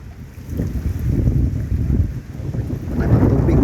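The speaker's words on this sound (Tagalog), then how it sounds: "medyo malakas po ang hangin ngayon" Strong wind roars and buffets steadily, a dense low rumble with gusts swelling and easing throughout, no voices.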